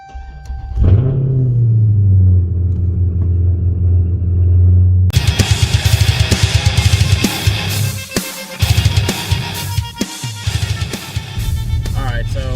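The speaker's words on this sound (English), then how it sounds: "cold start on a 16 SRT" A 2016 SRT engine cold starts, a starter whir followed by a deep rumbling idle that swells, then a burst of loud, choppy noise with sharp bangs and clatter nearby.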